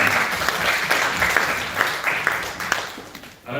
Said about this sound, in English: Another round of applause for the Mayor of Sydney.